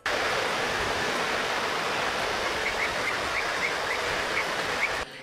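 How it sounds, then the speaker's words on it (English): Generated forest-and-river ambience: a steady, loud broadband rush of flowing water fills the whole stretch, with a few faint bird chirps surfacing briefly near the end and no voices. "Okay, let's listen forest and river."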